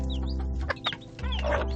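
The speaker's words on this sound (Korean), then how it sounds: "또다시 병아리를 이유 없이 공격하는 정신 못 차리는 암탉" A hen pecking at day-old chicks gives short clucks mixed with thin chirps, close by over a steady low hum.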